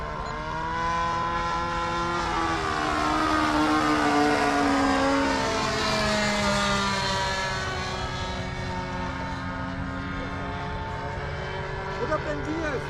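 A Delta 40 model airplane flies at an air show, its engine holding a loud, steady droning whine that rises and falls slightly as it passes, with voices talking over it.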